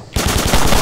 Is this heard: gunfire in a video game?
yes